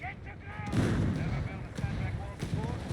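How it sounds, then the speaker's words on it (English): Artillery fire in the strategy video game Company of Heroes 3, a battle between infantry, sappers and a Matilda tank, with repeated booming shell impacts and scattered gunfire in a dense, continuous barrage, with some chatter underneath. "got the artillery catching the sappers here"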